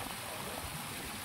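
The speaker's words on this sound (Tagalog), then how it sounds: "Tapos merong batis na maliit." A small stream at a resort makes a soft, continuous trickle and gurgle of flowing water, faint and unbroken, with no voices over it.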